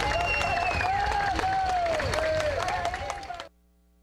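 A crowd claps steadily during a funeral procession for a pilot in Maceió, dense applause with a few louder claps, fading out near the end, with voices and tones mixed in.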